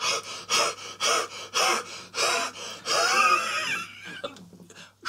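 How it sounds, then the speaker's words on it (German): A stable boy pants heavily, with a run of loud, rapid gasping breaths close by, then a longer strained wheeze and ragged, fading breaths at the end. "Der Stallbursche kommt hörbar schnaufend durch die Tür."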